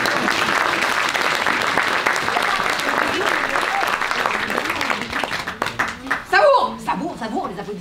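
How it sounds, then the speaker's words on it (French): Audience clapping at a children's end-of-year theatre performance for ages 9–11, full sustained applause that thins out toward the end as some chuckles and a voice come through. "Savoure, les applaudissements"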